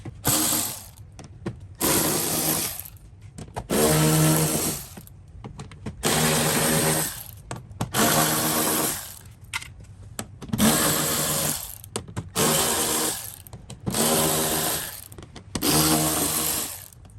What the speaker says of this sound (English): he's going to grab the electric ratchet and he's going to start zipping out those 10 millimeter bolts